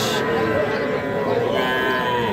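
A bull calf moos loudly and close by in a long drawn-out call at a livestock market, with faint crowd noise behind it.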